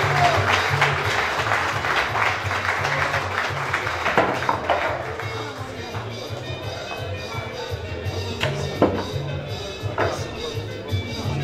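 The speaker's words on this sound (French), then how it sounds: "sur vos applaudissements" Sustained applause from a crowd, a dense wash of clapping that continues throughout with a voice occasionally heard over it.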